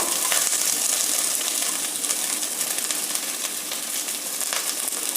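Onions sizzle as they fry in hot oil, giving a steady, close, broadband crackle that holds without a break, with no voices over it.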